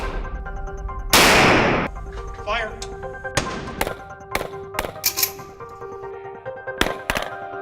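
Gunfire from a firearm on a police training range, a loud blast followed by a series of sharp, irregularly spaced shots, close and punchy, with a voice briefly heard.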